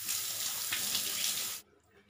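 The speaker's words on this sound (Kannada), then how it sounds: "ಪಾನಿಗೆ ನಾನಿಲ್ಲಿ 4 ಗ್ಲಾಸ್ ನೀರು ಹಾಕ್ಕೊಳ್ತಾ ಇದ್ದೀನಿ" Water pouring steadily from a tap into a vessel to make pani for pani puri, a close, even hissing splash lasting under two seconds before it stops.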